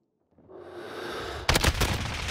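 Gunfire from an assault rifle in Call of Duty Modern Warfare. A rising rumble of battle builds, then a burst of several sharp, loud shots lands near the end.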